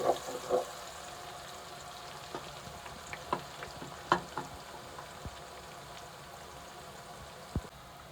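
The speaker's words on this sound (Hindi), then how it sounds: "अब हम इसमें एक प्याज डाल देते हैं। प्याज को फ्राई कर लेते हैं।" Onion frying in hot oil for a dhaba-style minced meat and peas dish, a soft continuous sizzle punctuated by scattered sharp spits and scrapes of stirring, with no talking.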